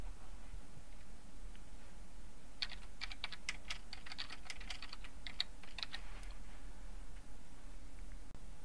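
Quick, light clicks of keys on a computer keyboard, a short burst of typing over a faint background hiss, fairly quiet and close.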